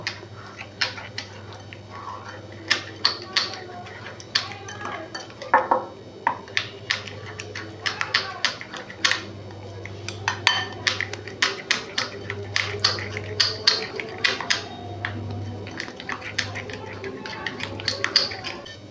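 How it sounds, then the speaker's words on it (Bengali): A spoon clinks and taps repeatedly against a bowl while mixing ginger-garlic spice paste, irregular sharp knocks close by over a low steady hum, with a voice talking at points. "আগে চামচটা দিয়ে ভালো করে মশলাটা মেখে নেব"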